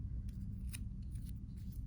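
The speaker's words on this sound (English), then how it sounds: "now it's safe to trim along that edge with our pointy, sharp Karen K. Buckley scissors" Pointy, sharp Karen K. Buckley scissors trim along a fabric edge of a quilted bag, giving a few quick, close snips over a steady low background hum.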